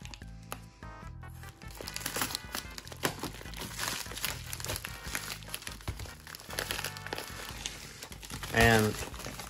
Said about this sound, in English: I accidentally tore a hole in the bag